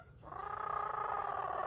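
A parrot imitates a cat with a single sustained, close, nasal meow-like tone that starts abruptly and holds steady for over a second.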